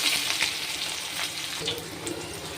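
Onions and whole garam masala spices fry in oil for a Bengali shahi katla fish dish, giving a steady close sizzle with faint scraping stirs and no talk.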